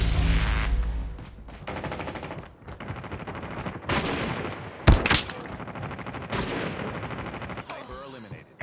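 Gunfire in the mobile shooter Call of Duty Mobile: rapid automatic bursts and sharp single shots, loud and close, with a booming blast midway and brief in-game voice callouts between.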